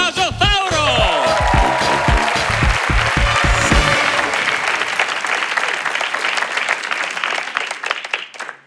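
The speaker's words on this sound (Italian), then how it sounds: "Fate un grande applauso per Tommaso Tauro!" A live stand-up comedy audience in Italy bursts into loud applause for a comedian. A voice rings out over the opening seconds, then thick, steady clapping carries on and fades slightly toward the end.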